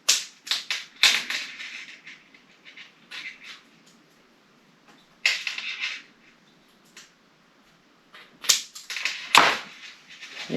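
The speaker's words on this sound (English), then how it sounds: "And then just trim the end off." Scissors trim the end of a wire bite trace on a fishing rig, giving sharp, close snips and clicks in short clusters separated by quiet pauses.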